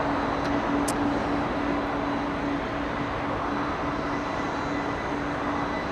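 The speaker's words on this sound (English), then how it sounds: "2 for 1 with the Cathay Pacific. We got one pushing back. And we have one taxiing." Cathay Pacific airliners pushing back and taxiing at LAX give a steady, broad jet-engine rumble with a constant low whine, distant and continuous throughout, no talk.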